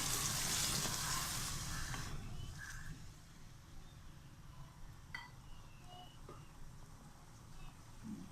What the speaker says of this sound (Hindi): मैं इसमें 2 गिलास पानी डालूँगी।